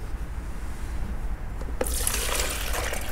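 Rice vinegar is poured into a bowl for a ginger dressing, a brief splashing trickle of liquid starting near the end, close and fairly clear over a faint room hiss.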